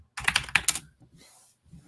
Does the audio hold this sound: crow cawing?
no